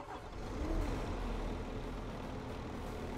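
A Ploeger machine's engine in Farming Simulator 22 rumbles steadily with a low, continuous drone, rising slightly early on and then holding at a constant idle-like level, with no talking.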